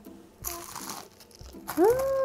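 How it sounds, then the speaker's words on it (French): Crisp crunching bites into battered fried chicken, a few crackly bursts close up, ending in a louder crunch with a brief squeaky tone. "Ça sonne croustillant"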